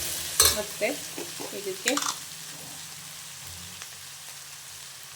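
Avarekalu chitranna being stirred in a frying pan, a few scraping, sizzling strokes of the spatula against the pan, brief and close, with a short bit of speech over the start before the kitchen quiets to a low hum.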